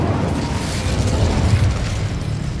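The Incendio fire spell cast in Hogwarts Legacy, a roaring, crackling burst of flame that holds steady and loud for a few seconds, dense and rumbling with no pauses.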